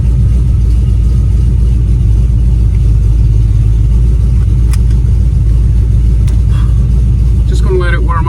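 A 1936 Chevy Coupe engine idles at a steady, deep rumble while warming up, loud and close throughout, with a few small clicks near the end and no talking over it.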